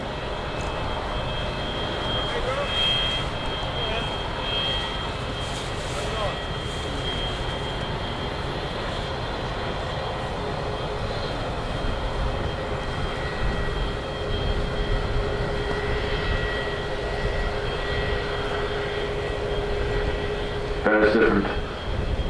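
A Boeing 787-9 Dreamliner in a flying display at the Farnborough airshow, its engines making a steady, broad jet roar that holds throughout, with a brief sharper burst near the end.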